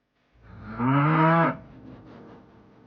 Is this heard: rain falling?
no